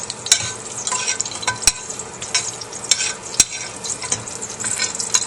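Garlic frying in a pan sizzles steadily and close, with repeated sharp scraping stirs and occasional clinks of a utensil against the cookware while making beef tamales.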